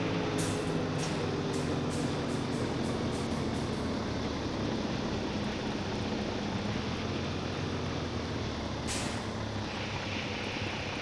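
A train rolls past in Farming Simulator 25, a steady broadband rumble of wheels and engine holding loud and close across the whole span, with sharp hissy bursts like air brakes near the start and again toward the end.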